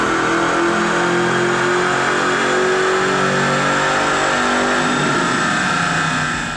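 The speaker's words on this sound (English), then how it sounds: "let's make another pull here with our 98 GT and see what those numbers are." A 1998 Mustang GT with a five-speed and a K&N cold air intake, run hard on a dyno: a loud, steady V8 roar climbing in pitch through a full pull, easing off at the very end.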